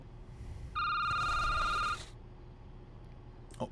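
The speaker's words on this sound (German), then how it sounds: "Oh, das Telefon klingelt jetzt auch." A telephone rings in the video game Security Booth: a single bright electronic ring lasting about a second, over a quiet low hum, followed by a short click near the end.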